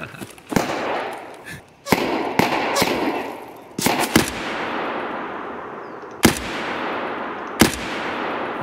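Gunfire during a video game raid, sharp loud shots in scattered bursts of one to three cracks with echoing tails, spaced irregularly across the clip, while players talk over it.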